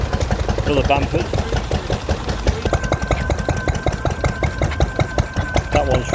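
Another Bamford stationary engine driving a water pump and reduction gearbox, its regular thumping firing beats loud and near, with a faint steady whine joining partway through and someone talking over it at an outdoor rally.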